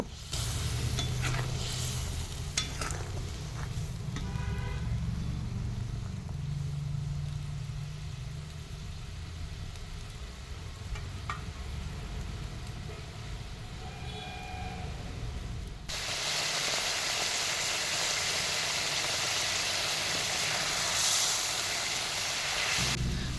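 Rohu fish curry gravy bubbles and sizzles steadily in a pan over a low hum, and the hiss grows much brighter and louder in the last several seconds.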